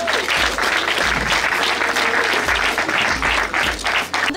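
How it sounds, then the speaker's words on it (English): Loud, continuous clapping from a film premiere audience for Kunle Afolayan's The Tribunal, a full room applauding steadily for a few seconds with some low thumps and crowd murmur underneath. "Can we give them a round of applause?"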